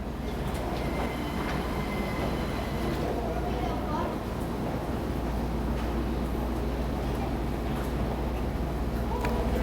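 A passenger train bound for Kamnik rumbles steadily close by with a low continuous roar, faint wheel squeals and rail clatter, while people talk in the background throughout.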